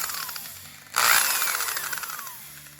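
A handheld drill spins a felt buffing wheel loaded with grinding compound, used for honing carving knives. It bursts on about a second in as a loud, steady whirring hum that continues to the end.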